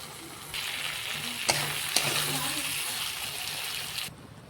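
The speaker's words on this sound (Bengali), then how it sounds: "এরপর ভেজে রাখা সব সবজি একে একে দিয়ে ভালো করে কষিয়ে" Fried vegetables and garam masala being stir-fried in a pan for khichdi, a loud steady hissing sizzle that starts abruptly, with two sharp utensil knocks, then cuts off near the end.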